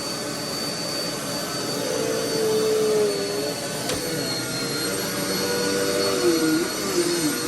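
A Dirt Devil Power Max vacuum cleaner runs steadily on a dirty rug, a loud, continuous motor whine and suction roar with slight shifts in pitch as it is pushed across the pile.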